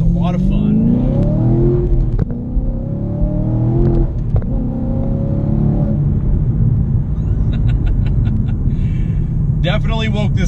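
Tuned car engine revving from inside the cabin, a loud low rumble climbing and falling through several rises, with crackling bursts near the end and no talking.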